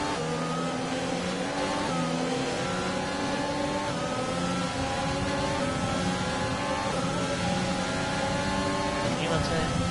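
An F1 car engine in the F1 2020 racing game holds a steady high-pitched drone with slowly rising harmonics, loud and continuous throughout, with faint chatter underneath.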